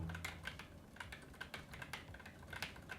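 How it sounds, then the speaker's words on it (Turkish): Quick, uneven keystrokes come from an ASUS ROG Scope RX TKL Wireless mechanical gaming keyboard, typed on up close: a steady patter of crisp clicks with no voice over it. "Yine gecikmesiz bir şekilde yazıyorum."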